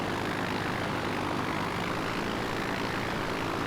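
A light aircraft's propeller engine drones steadily while taxiing in the Flight Unlimited III flight simulator, a constant, even hum with no pauses or voices.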